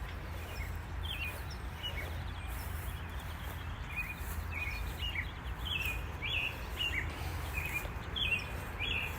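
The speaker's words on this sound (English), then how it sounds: "Listen to the birds, guys." Birds chirp and sing in a quiet cemetery, a run of short, fairly faint high calls repeating over a steady low outdoor rumble, with no one talking.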